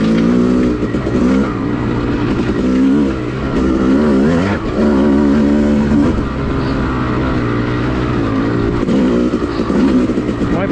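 A Yamaha YZ250 two-stroke dirt bike rides a woods trail at an OHV area, its engine loud and close as it revs up and down through gear changes with no voices.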